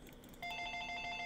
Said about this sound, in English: And the phone's ringing, so let me go ahead and answer this real quick.